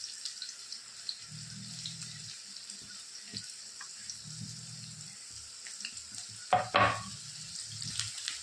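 Chopped onions, tomatoes, garlic and coriander fry in oil with a soft, continuous sizzle, broken by intermittent stirring scrapes and one louder clattering burst near the end.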